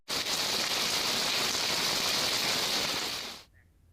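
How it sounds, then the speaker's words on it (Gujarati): Heavy monsoon rain falls on a road with water running across it, a loud, steady roaring hiss that cuts off abruptly near the end. "ધોધમાર વરસાદ વરસતા રોડ પર પાણી વહેતા થયા."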